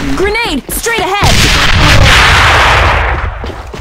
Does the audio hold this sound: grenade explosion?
yes